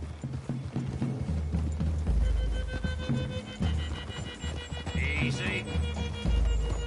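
Horse hooves clip-clop through a wooded clearing in the Red Dead Redemption 2 video game on PS5, a steady close rhythm under the game's ambient sound and score.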